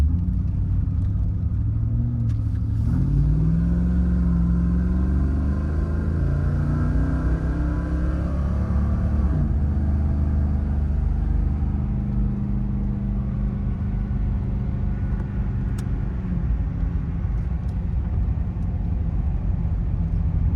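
A 1991 Pontiac Firebird Formula's 350 V8 rumbles loud and close, its deep exhaust note climbing through a rev before settling back to a steady, throbbing idle, with no talking.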